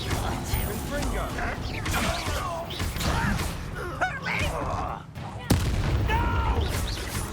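Spell blasts and crackling bursts from Hogwarts Legacy combat as a Confringo explosion spell is cast, a sharp boom near the middle and another loud hit later, under shouted in-game voices and fight clatter.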